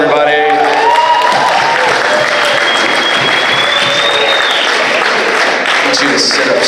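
Loud, sustained applause from a high school after-prom audience, steady clapping filling the room for the whole stretch with crowd noise and a few voices mixed in.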